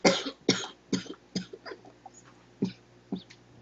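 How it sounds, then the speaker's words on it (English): Repeated coughing, about eight loud bursts at irregular intervals spread across a few seconds, close up, with no talk in between. "I'm gonna finish my coughing"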